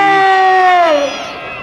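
Children on the red team give a single loud group cheer at a police open day, a sustained shrill 'yay' from many voices that holds steady, then slides down and fades after about a second.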